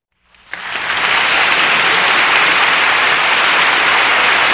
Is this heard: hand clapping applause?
yes